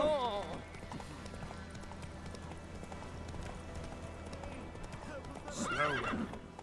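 Roach, a horse in The Witcher 3, clip-clops along in a steady hoof rhythm, whinnying loudly at the start and again near the end, while game voices speak over it.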